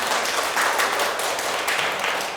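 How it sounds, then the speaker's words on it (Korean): An audience at a book talk with a coffee company founder claps continuously, a dense even wash of applause with no voices over it. "여러분 이런 부분에 대해서는 우리가 박수 한번 쳐도 괜찮다"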